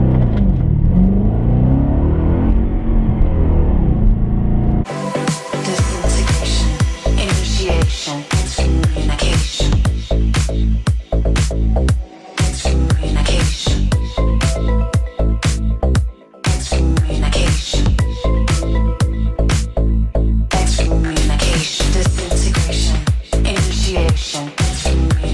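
An Audi S4 sits idling, then launches hard from a standstill, its engine roaring loudly and close through repeated rising revs and sharp gear shifts.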